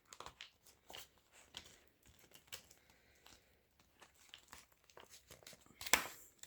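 Coins go into a paper envelope amid close, steady crinkling and rustling of paper, with scattered light taps and a sharper clink-like hit near the end; no talking.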